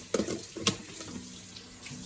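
Water runs from a kitchen tap into a sink while someone washes their hands, a soft steady splashing stream heard close, with a few brief louder gushes.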